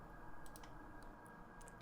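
Mouse clicks on Save in a training session on saving point files for an Astorino robot: a few faint, sharp ticks scattered over a steady low background hum, with no speech.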